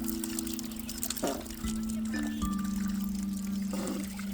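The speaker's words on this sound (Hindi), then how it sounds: "ये बैम्बू स्टिक के थ्रू जो रनिंग वाटर चलता है पहाड़ों में" Mountain running water flows through a bamboo stick on a trek, a steady pouring trickle heard close by, with faint tonal whistles and soft knocks over it.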